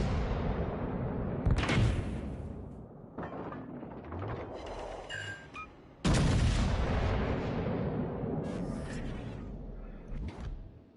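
Battleship Bismarck firing in World of Warships: Legends, two heavy booming salvos roughly four seconds apart, each a loud blast trailing into rumbling, whooshing decay with scattered impacts.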